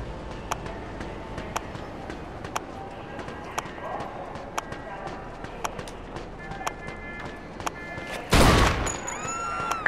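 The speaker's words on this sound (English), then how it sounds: "Got some nut job here shooting a gun." Gunshots in the video game Mafia II ring out as a series of sharp, evenly spaced cracks over a steady background rumble, ending in a louder, sustained burst of gunfire.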